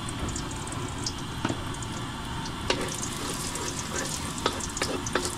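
Chopped ginger sizzles in hot oil in a frying pan, a dense, steady crackle with sharp spatter pops and occasional stirring clinks, close and alone.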